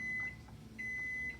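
A microwave oven powered through a 2000 watt inverter at 120 volts hums loudly with a steady tone, dips briefly, then resumes its drone for a second stretch; no one speaks.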